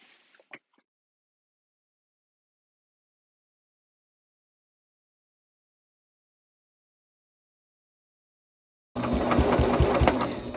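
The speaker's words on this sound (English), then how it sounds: "now we're just going to top stitch along the top edge." After a couple of faint handling taps and a long silence, a sewing machine abruptly starts up loud and close, top stitching along the top edge of a fabric tote with a fast, steady mechanical chatter.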